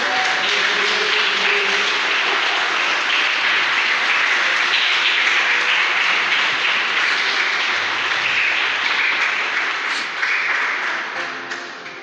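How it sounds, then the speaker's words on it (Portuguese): Church congregation applauding during an Easter service, a dense, steady wash of many hands clapping at once, loud and sustained throughout before easing slightly at the end, with no talk over it. "Você pode dar um aplauso ao Senhor Jesus por isso?"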